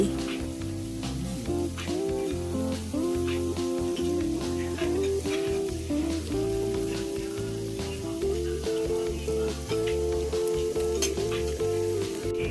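Marinated pork sizzles steadily on a barbecue grill, a continuous close frying hiss with scattered crackles running the whole time, while a low tonal hum and faint clinking sit underneath.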